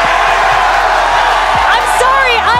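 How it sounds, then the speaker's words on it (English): Crowd at an esports Major quarterfinal in Atlanta, Spacestation Gaming versus FaZe Clan, roaring loud and continuous in a packed arena, with whoops rising near the end and a voice shouting over it. "Undoubtedly one of the loudest crowds I have ever experienced"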